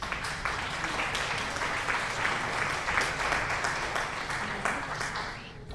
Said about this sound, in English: I'm gonna do the applause one.